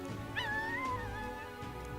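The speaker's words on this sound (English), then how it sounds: "A dog?" A dog whimpering in the video game Metaphor: ReFantazio, a single high, wavering whine lasting about a second over quiet background ambience.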